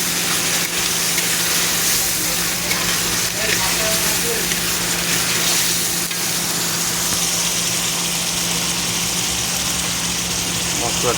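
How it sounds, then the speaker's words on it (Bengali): Spiced masala paste frying in a pan in a hotel kitchen while small fish curry is cooked, a steady broad sizzle running throughout alongside a constant low engine-like hum, with people talking faintly underneath. "মশলাটা ফ্রাই হয়ে যাচ্ছে।"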